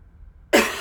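A single sharp cough bursts out close and loud after a moment of near silence, then trails off.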